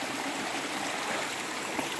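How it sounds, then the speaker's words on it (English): A small waterfall on a hiking trail at Shades State Park, Indiana, heard close as a continuous, even rush of falling water with no voices. "so we're approaching the waterfall. Small waterfall."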